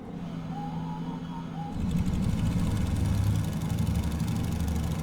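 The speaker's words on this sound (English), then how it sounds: "So somewhat meek start sounds there, not too much from the engine" A Fokker F VII engine starts in Microsoft Flight Simulator, quiet ambience giving way midway to a low, steady mechanical rumble as the engine catches and settles into a fairly subdued idle.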